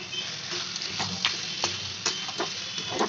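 Spice paste of ground turmeric, coriander and other spices mixed with water, frying in a pan for khichuri, giving a steady close sizzle with small crackles and faint stirring ticks throughout.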